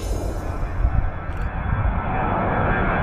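Steady roar of a jet aircraft engine, loud and continuous, as a plane powers up on the runway for takeoff at Budapest Airport.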